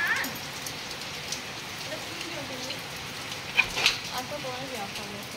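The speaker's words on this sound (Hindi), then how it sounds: "और बाहर वर्षा चली" Steady rain falls outside, a soft continuous patter with a few brighter drop splashes, holding at an even level throughout.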